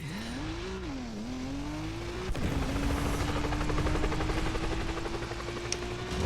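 A helicopter in the Split Second racing game drones steadily and loudly, its engine whine sliding in pitch before settling into a sustained tone over continuous game noise, with no talking.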